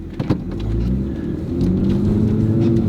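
Road noise inside a 2022 Mini John Cooper Works while driving: a constant low rumbling drone with a few bumps and thumps near the start, loud and close in the cabin.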